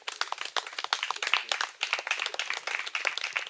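Young people at a gathering in Mont Denguélé applaud steadily for several seconds, a dense, moderately loud patter of many hands clapping with no one speaking.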